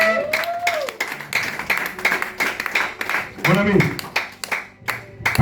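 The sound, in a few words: congregation applauding and clapping for the Lord in church service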